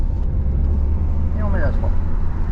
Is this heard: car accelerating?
yes